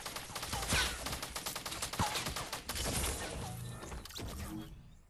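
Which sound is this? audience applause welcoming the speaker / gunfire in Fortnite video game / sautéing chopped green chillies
gunfire in Fortnite video game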